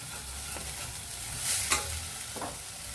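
Spinach leaves are dropped into a pan of frying onions for Palakura Ullikaram curry, giving a steady close sizzle with a few louder scraping stirs and a soft rustle near the middle.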